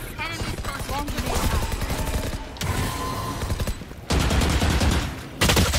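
Gunfire in Valorant on the Split map: bursts of rapid rifle shots crackle close and loud in several sustained volleys, with short pauses between them, under busy game sound.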